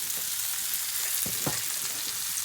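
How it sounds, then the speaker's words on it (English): Onion frying in a pan for a Moroccan dish gives a steady, soft sizzle, with a couple of brief stirring scrapes near the middle and no voices. "you just let the onion break up in the pan"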